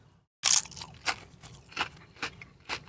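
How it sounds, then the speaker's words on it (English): Lay's Wavy potato chips crunched up close: one sharp bite followed by several rhythmic chewing crunches, fairly quiet with no talk. "Nice crunch."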